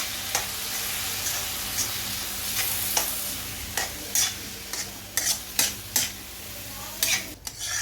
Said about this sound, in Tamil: தக்காளி போட்டுட்டு அழகாக கிண்டி விடணும்.